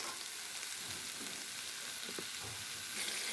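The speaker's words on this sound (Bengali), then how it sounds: "কষিয়ে নিলাম, ভেজে নিলাম।" Ridge gourd fries in a pan with a steady, close sizzle and occasional stirring scrapes. No one speaks.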